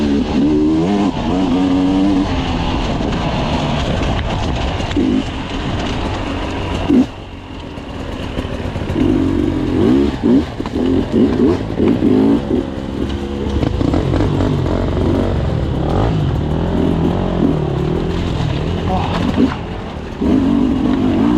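A hard enduro motorcycle engine revs and bogs loudly up close during an expert-class race section, with rapid throttle bursts, brief drops, and continuous mechanical roar.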